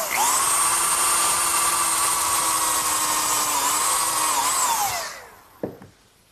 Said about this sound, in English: I'm going to pre-drill for the screws using a combination drill countersink